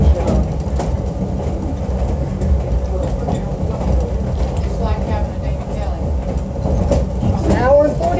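A SAM Shortline excursion train runs along the rails between Cordele and Americus, Georgia, giving a steady low rumble with faint clickety-clack from inside a passenger car, while voices murmur faintly at times.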